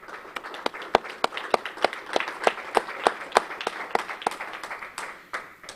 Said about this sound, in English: I would like to give a big round of applause to our friend forever and ever, Congressman Greg Pence from Indiana.